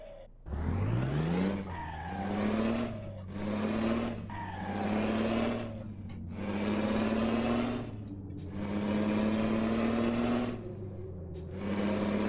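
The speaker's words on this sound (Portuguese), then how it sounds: "Olha o som do caminhão." A modded truck engine in Euro Truck Simulator 2 revs repeatedly through gear changes, each climb ending in a drop, loud and close with no talk.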